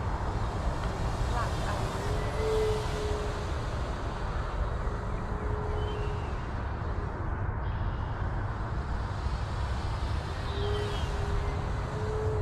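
An E-flite Super Timber 1.7 m RC model airplane makes a full-speed pass, its steady electric motor drone holding throughout, with wind buffeting and a constant background rush.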